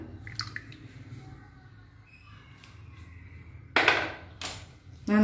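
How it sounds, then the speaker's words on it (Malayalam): Melted gelatin is poured into tender coconut water for a coconut pudding, giving a short, close splashing pour followed by brief liquid bursts over quiet room background. "മെൽട്ടായ ജെലാറ്റിൻ ഈ കരിക്കിൻ വെള്ളത്തിലേക്ക് ഒഴിച്ചു കൊടുക്കുകയാണ്."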